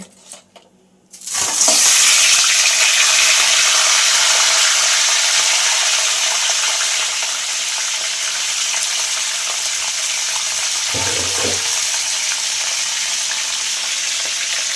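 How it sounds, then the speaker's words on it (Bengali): Crabs hit hot oil in a pan with a sudden loud sizzle that settles into a steady, bright crackling fry, broken by one brief stir partway through, with no speech. "ওই তেলেতেই কাঁকড়াগুলো ভেজে নেব"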